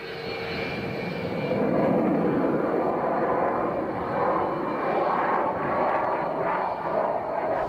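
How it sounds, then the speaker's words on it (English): Roaring jet engine of a Russian fighter jet performing an aerial maneuver, hanging vertically before the nose tips down for recovery; a continuous, loud broadband roar that swells and shifts slightly in pitch, with no voices. "The jet hangs vertically for what seems like minutes."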